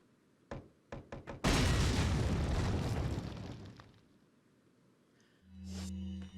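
In the Resident Evil 4 video game, a few sharp knocks come first, then a grenade goes off in a loud, rumbling boom that slowly fades. A low tonal game sound rises at the end.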